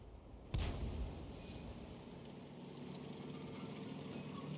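A tank cannon fires once with a sharp, heavy boom early on, then a steady engine rumble carries on beneath in a World of Tanks battle involving an M6 and a KV-85.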